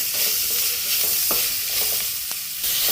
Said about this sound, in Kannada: ಈಗ ಟೊಮೊಟೊ ಸತ ಹಾಕ್ಕೊಳ್ತೀನಿ ಅದು ಚೆನ್ನಾಗಿ ಫ್ರೈ ಆಗಿದೆ